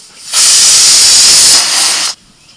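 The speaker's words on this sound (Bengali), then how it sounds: "প্রেসার কুকারে 3টে সিটি দিয়ে আমি আলুটা নামিয়ে রাখছি।" A pressure cooker with potatoes inside vents steam through its whistle, a single loud, close hiss lasting under two seconds that cuts off abruptly.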